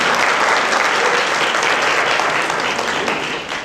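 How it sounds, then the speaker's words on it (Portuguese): A seminar audience gives a loud, dense round of applause for a lawyer. The clapping runs steadily throughout and fades slightly at the end. "Então eu gostaria de dar uma salva de palmas para o Sérgio"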